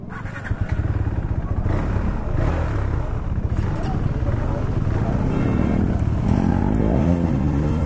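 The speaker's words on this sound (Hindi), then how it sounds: "एग्जॉस्ट नोट सुनोगे इसका" A KTM Duke 390 BS4 motorcycle on the move gives a loud, continuous exhaust note that rises and holds, with a voice faintly underneath.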